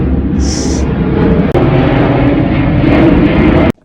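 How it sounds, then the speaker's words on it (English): An aeroplane roars overhead as a loud, constant low rumble that fills the whole clip before cutting off suddenly. "Bloody aeroplanes"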